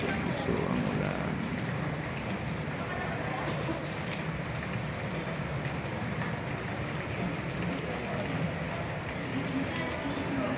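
Heavy rain pours steadily around a seamen's dormitory, a dense, continuous hiss of drops drumming on surfaces that stays loud and even throughout, with a voice talking over it.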